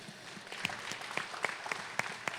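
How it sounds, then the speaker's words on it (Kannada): Faint, scattered clapping from a church congregation, a handful of distinct claps rising over a soft room background. "ಅವ್ರಿಗೊಂದು ಚಪ್ಪಾಳೆ ಕಾಣಿಕೆ ಕೊಡ್ರಿ."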